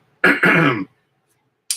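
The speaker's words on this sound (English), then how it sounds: "I guess I need to get a little swig of Mountain Dew here to clear my throat." A person clears their throat with two rough, forceful bursts, then a short sharp exhale after a pause.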